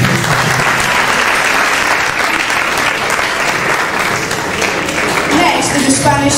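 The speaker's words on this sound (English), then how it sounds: "Please, another round of applause." Loud, sustained applause from a crowd at a school drama performance, dense clapping that holds steady throughout without pause.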